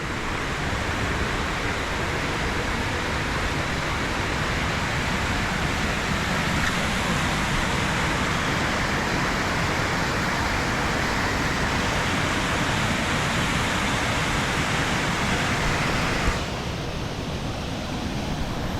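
Indian Flats Falls roaring after heavy rain, a dense, loud, unbroken rush of water heard up close, with no voices over it.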